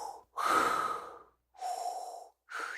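A voice imitates Darth Vader's mechanical breathing apparatus, a transhuman cyborg from Star Wars, with three loud, hissing breath cycles, alternating long inhales and exhales, heard up close with no talking.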